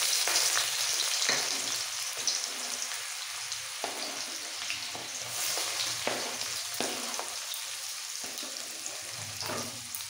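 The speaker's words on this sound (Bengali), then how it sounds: "এবার পেঁয়াজটাকে লাল করে একটু ভেজে দেবো।" Chopped onions fry in hot oil in a pan, a continuous close sizzle with periodic scraping stirs punctuating the crackle.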